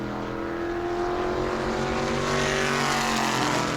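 A race car at New Smyrna rolls down pit road during qualifying, its engine holding a steady, fairly loud tonal drone that slowly rises in pitch, with no voices over it.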